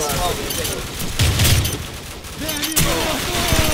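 Rapid bursts of gunfire from a Call of Duty match set in Rio sound loud and close, with crackling volleys and impacts layered over excited voices talking.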